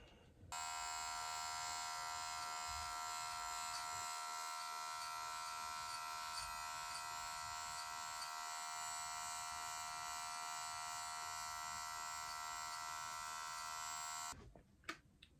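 An electric hair clipper fitted with a guard, lever fully open, runs steadily for about fourteen seconds during a self-cut taper fade, giving a close, constant buzzing whine with no talk.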